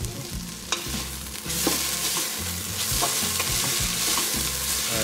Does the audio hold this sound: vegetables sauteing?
yes